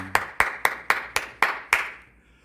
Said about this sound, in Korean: 우리 다시 한번 하나님께 감사의 박수 드리겠습니다.